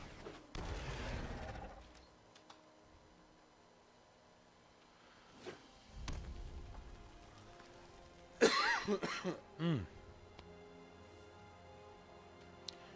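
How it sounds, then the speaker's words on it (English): A few scattered, dry coughs and throat clears sound close by, separated by quiet stretches, with a cluster of sharper coughs near the end. "cough that just doesn't want to stop"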